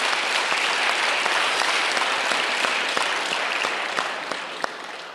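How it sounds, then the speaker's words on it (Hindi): A crowd at a blood donation gathering in the Swarved Mahamandir temple complex claps in sustained, dense applause, steady and loud before tapering slightly at the end. "उन सब के लिए हम सब तालियों की गड़गड़ाहट कर रहे हैं"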